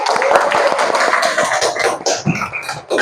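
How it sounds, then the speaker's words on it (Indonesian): Classroom of schoolchildren clapping together for a classmate, a dense, steady patter of hand claps close by for a few seconds, thinning out near the end. "Beri tepuk tangan dulu untuk kawannya, anakku"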